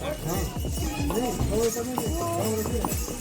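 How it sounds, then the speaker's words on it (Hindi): Horses' hooves clip-clop along the crowded pilgrimage path to Mata Vaishno Devi near Katra, their scattered knocks close by and mostly under steady talking. "हर रास्ते में घोड़े आ जाते हैं"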